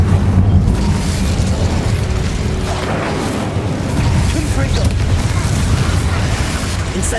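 Fiery spell blast cast in Hogwarts Legacy, a loud sustained whooshing roar with booming low rumble that lasts several seconds, layered over busy game ambience.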